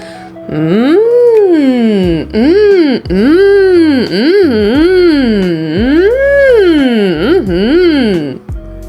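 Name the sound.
approving hum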